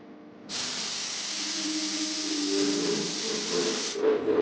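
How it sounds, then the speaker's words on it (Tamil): A pressure cooker of mushroom rice lets out a single long, loud steam whistle lasting about three and a half seconds, hissing steadily before cutting off with a brief sputter. "இப்போ 3 விசில் வர வரையும் வெயிட் பண்ணணும்"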